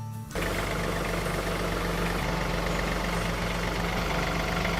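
A tractor engine idling as it backs up toward a trailer: a loud, steady, low rumble that starts abruptly and then holds constant and close, with no speech over it.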